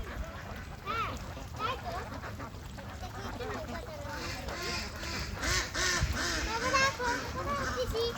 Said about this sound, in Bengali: দেখছো অনেক হাঁস, তাই না